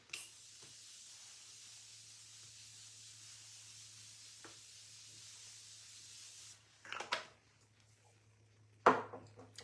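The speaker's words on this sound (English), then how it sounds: "That was the Morphe Continuous Mist Setting Spray." Morphe Continuous Mist setting spray sprays during a makeup session, heard as a few short bursts of misting hiss near the end, clear against a quiet background with a steady low hum.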